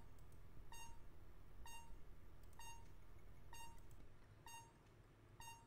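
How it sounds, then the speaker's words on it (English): Electronic beeping from the computer adventure game Space Quest 6, a steady series of about six sharp, bright beeps spaced roughly evenly, alone over a low background hum. "What's beeping there?"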